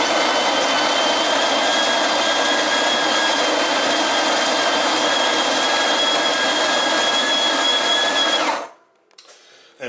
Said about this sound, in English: first of all, I'm going to grind the beans down. So I've got my beans in my grinder,